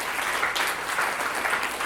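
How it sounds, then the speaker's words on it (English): Audience applause after a candidates' forum in San Diego, a steady, dense wash of many hands clapping at once, fairly close and continuous with no voices over it. "You can applaud now."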